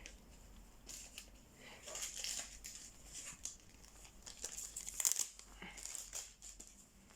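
A Yu-Gi-Oh! trading card slid into a protective plastic sleeve, soft quiet crinkles and light rustling bursts close by, with no talking.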